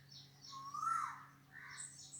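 Birds chirp and sing outdoors in a calm natural setting during a yoga session, faint, soft calls rising and falling over a low steady background hum.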